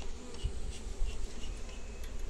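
Honeybees buzz at an apiary hive, a dense, continuous hum close by with individual bees droning past now and then.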